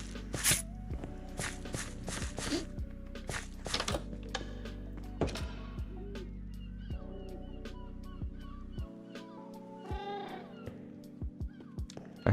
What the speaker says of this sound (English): I heard that cat and I thought it was a gas noise for a second.